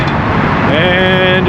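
Heavy morning road traffic passing close by outside a shop, a loud steady roar of engines and tyres with a rising engine whine from one vehicle partway through.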